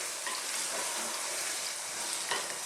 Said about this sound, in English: let's throw these around in the pan and let them cook again for about another